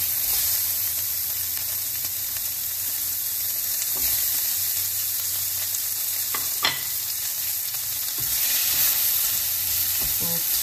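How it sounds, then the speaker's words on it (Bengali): Onions frying lightly in a pan on a home stove, a steady soft sizzle holding throughout with a few faint clinks and stirring scrapes, no talking. "পেঁয়াজটাকে একটু হালকা ভাজা ভাজা করে নেব"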